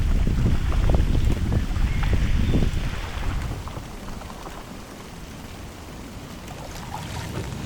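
Heavy rain patters steadily on water and gear along a river canoe trail, a dense close hiss mixed with gusty wind noise, loudest at first and easing slightly.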